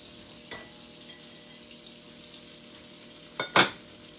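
Butter hits hot mini pans for a Dutch baby with a soft sizzle over a quiet frying hiss, marked by a faint tap early on and two sharp bursts of spattering near the end.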